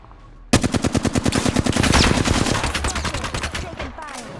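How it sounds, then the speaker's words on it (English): Rapid automatic gunfire in a first-person shooter video game: after a half-second lull, loud, tightly spaced machine-gun bursts rattle continuously for about four seconds, then thin out toward the end. "Taking fire. Reload. Getting shot at. Firing."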